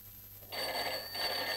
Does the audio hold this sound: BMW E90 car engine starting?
no